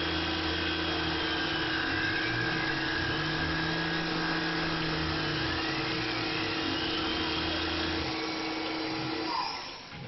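Tormach PCNC 1100 CNC mill cutting a finish pass at 3,000 RPM, 10 inches per minute plunge and 20 inches per minute cut, a steady close whirring drone with tonal hum that stays level, then winds down near the end.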